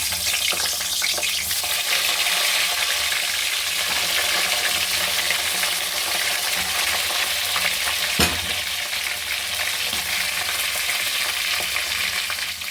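Eggplant slices coated with salt and turmeric fry in hot oil in a kadai, a loud, steady, dense sizzle running throughout with one brief sharp crackle midway.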